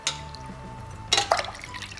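Tap water drips and splashes while copper and brass utensils are rinsed, a few close, sharp splashes over a quiet background.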